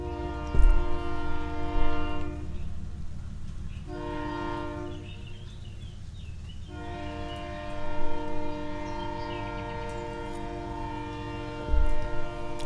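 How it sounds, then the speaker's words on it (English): A train rumbles past continuously, its loud horn blaring in long sustained blasts over the heavy rolling of wheels on the rails. "we're going to wait till that train gets a little further down the tracks."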